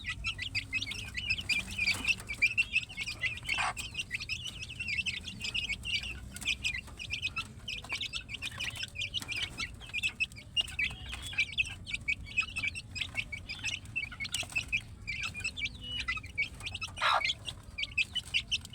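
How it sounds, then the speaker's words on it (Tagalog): A hen and her growing chicks clucking and peeping continuously, close by, with high chirps overlapping soft clucks throughout. "Ang laki ng ating mga sisiw."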